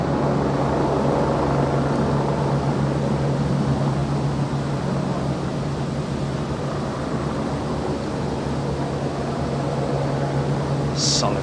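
A steady, broad rotor drone from helicopters flying overhead during the Queen's Platinum Jubilee flypast in 2022 holds at an even, moderately loud level throughout.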